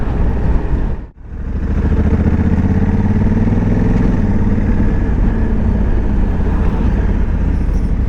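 A motorcycle engine idles and chugs at low revs, a steady loud rumble with one brief dip early on, close by and without speech.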